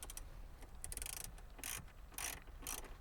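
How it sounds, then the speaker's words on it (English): T20 Torx metal screws being driven back into plastic in a 2015-2019 Mercedes GLS dashboard, a rapid series of soft ratcheting clicks in short bursts, close and fairly quiet, with no talking. "We can now reinstall the screws. These are T20 Torx screws."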